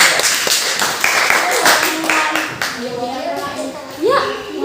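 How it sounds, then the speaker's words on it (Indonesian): Several hands clap in a quick burst during a school physical education fitness and strength lesson, with children's voices chattering close by and continuing after the claps fade. "Tepuk tangan."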